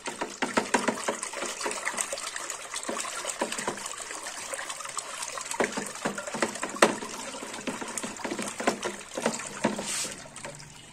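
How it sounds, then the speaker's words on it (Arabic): Liquid caustic soda is stirred into a homemade oxygen colour-safe bleach detergent mixture, a steady sloshing and swirling of liquid with rhythmic splashes and scrapes, close and moderately loud throughout. "وطبعا هنقلب الصودا كويس جدا."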